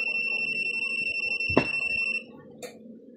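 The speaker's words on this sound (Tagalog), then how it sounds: "Dapat tutunog yan, dapat. Ayan, nag-alarm siya." An electrical tester, with one probe on a live conductor, sounds a steady, shrill, continuous alarm tone up close. The tone then cuts off abruptly, followed by a faint click and a short chirp.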